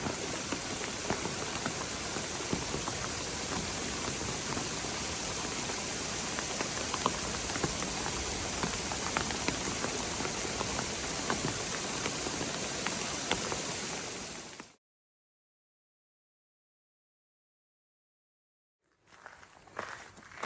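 Steady rain falls on a tent or gear during a hailstorm weather day on the John Muir Trail, a dense close patter for about fifteen seconds, then near silence before faint drops return.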